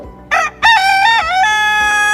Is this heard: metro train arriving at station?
no